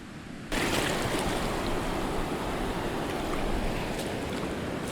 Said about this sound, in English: dumping some water and wetting the sand around the tire